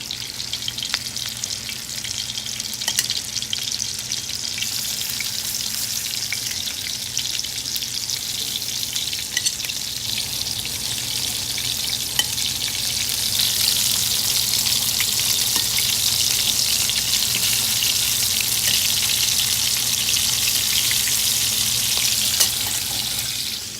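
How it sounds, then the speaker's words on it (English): Lamb meatballs sizzle steadily in a hot skillet, a dense continuous hiss with occasional pops and the faint clink of tongs, close and fairly loud with no talking. "we're just gonna drop our little meatballs right in there, right in the skillet"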